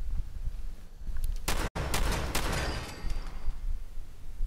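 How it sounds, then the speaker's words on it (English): A shotgun blast in Fallout 4 cuts through dense combat noise, with a sharp loud report and a short rumbling tail amid other gunfire. "I shotgunned her out of existence."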